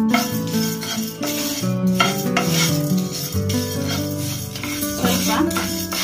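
Spices dry roasting in a pan without oil for sambar powder, stirred continuously with a utensil, giving scraping and rustling sounds beneath steady background music.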